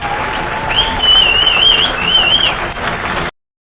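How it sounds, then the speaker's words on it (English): A studio audience breaks into continuous applause to welcome guest Croix Sather onto a business talk show. Thin whistle-like tones ride over the steady clapping for about three seconds before it cuts off abruptly. "Round of applause and a huge, heartfelt, warm welcome to Croix Sather."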